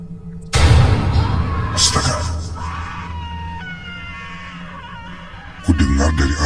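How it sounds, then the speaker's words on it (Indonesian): A woman screams loudly and hysterically in a toilet, crying and wailing in a sustained outburst for a horror story, then a second loud scream bursts out near the end. "perempuan itu berteriak sangat histeris, seperti menangis dan berteriak-teriak"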